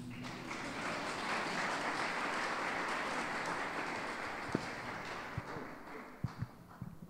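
An audience applauds at a concert in Banja Luka, with sustained clapping from a crowd at moderate distance, tapering off with a few scattered sharper claps near the end.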